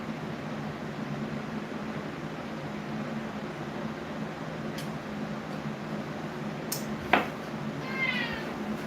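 A short cat meow rises out of a steady hiss of background noise, followed by a faint, trailing second call near the end.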